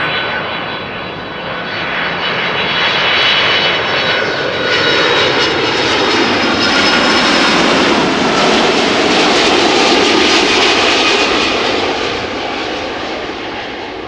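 An A330-300 airliner from Minneapolis in new livery arriving at Amsterdam Schiphol Airport roars loudly and close by, a sustained broadband engine rush with a high whine that swells, holds and slowly fades.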